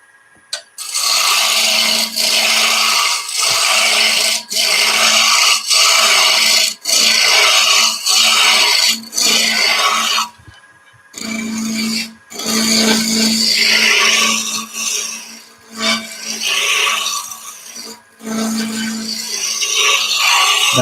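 An angle grinder fitted with an Arbortech blade rounds and thins a wooden spatula of rippled timber, giving loud rasping, abrasive bursts that repeat with short pauses between passes and no voices.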